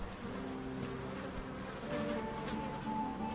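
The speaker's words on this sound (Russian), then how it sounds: "мухи летают, нифига себе" Flies buzz steadily in the Kingdom Come: Deliverance game, a close, continuous droning hum with faint whining tones drifting in and out and no talk over it.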